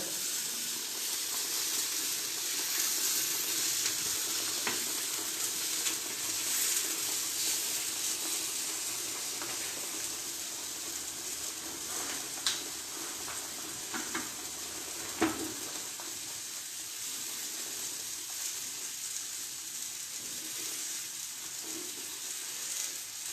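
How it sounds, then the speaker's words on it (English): Vegetables grilling over an open fire, a steady low sizzle and hiss with occasional faint pops and crackles, quiet and unbroken, with no talking. "you can see the vegetables I've actually got grilled, probably another minute or so, and I'll be removing it off the fire"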